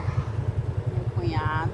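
A large motorcycle riding on a road in the Amazon, its engine giving a fast, pulsing low throb close by, with a brief higher tone rising near the end.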